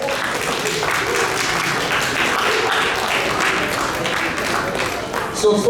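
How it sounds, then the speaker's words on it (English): An audience applauds at a United Nations Day of Peace event honoring first ladies, a dense, steady wash of clapping from a crowd. Voices mix in beneath it. "Let's give them another round of applause."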